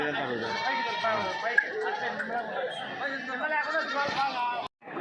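Goats bleating at the Kadiri sheep and goat market, several overlapping nearby calls mixed with crowd chatter and people talking throughout.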